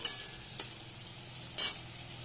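A spoon stirs frying potatoes in a pan, with a soft scrape or two and a brief louder sizzling scrape near the end over a low, steady frying hiss.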